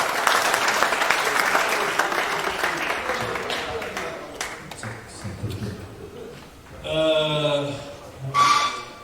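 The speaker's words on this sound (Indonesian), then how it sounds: "Kita berikan tepuk tangan yang paling meriah." An audience at a regional FGBMFI convention session breaks into applause, dense clapping fading over several seconds, then a few scattered claps and taps with voices and tonal sounds rising near the end.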